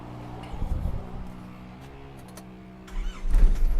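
An Isuzu Dragon Power diesel pickup truck engine runs at a low steady drone, then surges louder near the end with a deep rumbling rev.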